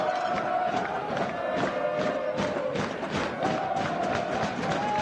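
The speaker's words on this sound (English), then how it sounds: "You can hear this crowd noise" Excited spectators at a Friday night men's rugby match between Adrian and Thomas More roar and cheer in a broad, rumbling wash of crowd noise, with occasional thumps, sustained for several seconds.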